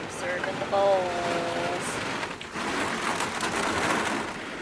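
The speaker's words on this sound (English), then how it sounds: "You can hear the rain." Steady rain hissing in the background while people talk over it, moderately loud and continuous.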